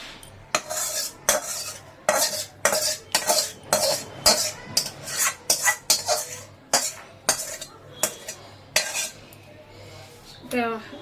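A metal spoon scraping and clinking against a pot as masala is spooned over chicken biryani, in repeated close, sharp strokes with short pauses between them.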